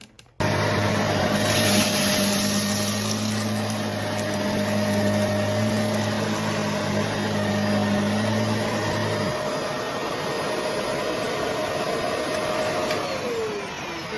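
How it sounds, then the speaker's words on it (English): A Shark Navigator Lift-Away NV356E vacuum runs with its brushroll on over carpet, picking up spilled granola. A loud, steady motor whine and airflow roar switch on and continue throughout, up close, with no talking. "So the Brushroll will be on, and let's see how well it vacuums up."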